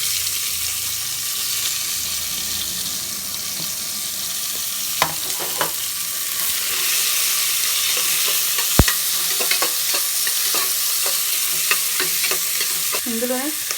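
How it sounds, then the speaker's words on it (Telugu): Two thinly sliced onions frying in a pot of oil with whole biryani spices for mutton biryani, a constant close sizzle broken by scraping stirs and a few sharp clanks of the spoon. "ఇందులోనే సన్నగా కట్ చేసుకున్న 2 ఆనియన్స్ వేసుకుంటున్నాను."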